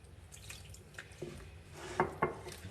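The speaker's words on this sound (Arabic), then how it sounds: "نفس الكاس تهزيه تحطي فيه الماء" Water is poured into a measuring cup in a home kitchen, heard as faint dripping and a few brief splashes against the cup, fairly close and quiet.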